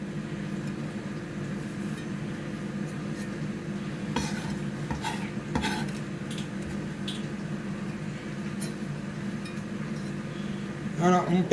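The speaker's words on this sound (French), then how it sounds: "Maintenant je vais le mettre dans mes pommes de terre à l'ail. Là maintenant on remue le tout." Garlic potatoes being stirred with chopped parsley in a pan, with a soft continuous scraping and occasional clinks of utensil on cookware, steady and close under a low room hum.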